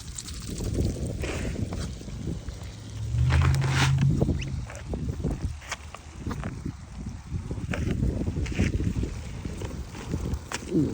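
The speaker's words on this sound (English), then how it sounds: "Ooh, it's windy." Gusty wind buffets the microphone outdoors, a continuous rumbling roar that swells and eases over several seconds, loud and close.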